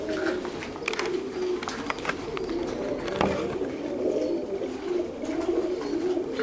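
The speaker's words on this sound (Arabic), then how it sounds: "ادي هو الحمام بقى ابتدى اللي هو ايه يخش يشرب" Pigeons coming in to drink coo in soft, repeated throaty calls, close by, over a light background of rustling and scattered small noises.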